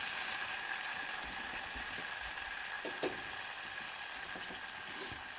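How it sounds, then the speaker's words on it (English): Banana chips fry in hot oil, sizzling and crackling steadily, a constant hiss with scattered small pops, close and fairly quiet. "fry them until they start to turn golden brown."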